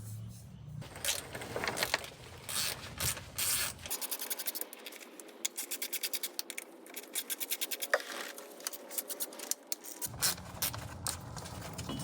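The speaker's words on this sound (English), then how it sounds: "we're going to remove the series of 8mm bolts and try not to make a mess dropping the pan" A ratchet works on the 8mm bolts of a Ford F150 6R80 transmission pan, giving rapid clicking and scraping bursts up close, with brief pauses between runs.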